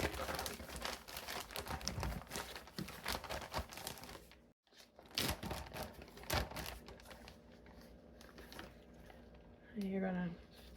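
Breaded chicken strips are shaken in a zip bag, giving a continuous crinkling, rustling plastic sound with brief pauses, while a person talks over it.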